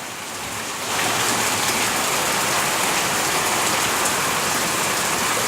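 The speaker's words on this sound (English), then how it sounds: "It is still raining a lot. Huge amount of rain." Heavy rain pours down steadily on an Independence Day, a dense, even hiss that swells in suddenly after a quieter first second and then holds loud and unbroken, with no voices.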